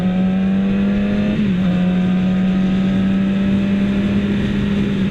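Stock-sounding 2016 Yamaha YZF-R6 sportbike engine fitted with a K&N air filter, holding a steady loud drone with a brief dip in pitch partway through, close and continuous with no talking.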